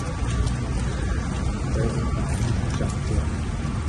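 Dense, steady heavy rain in Tirana, Albania hisses continuously, loud and broadband, with faint patter throughout.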